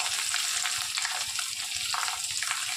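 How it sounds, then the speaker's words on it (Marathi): Curry leaves and onion sizzle steadily in hot oil for masale bhat, a continuous dense frying hiss with faint stirring movements underneath, close and fairly loud throughout. "कढीपत्ता कांदा टाकूया"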